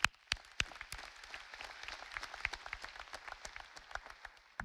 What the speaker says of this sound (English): please join me in congratulating and applauding them.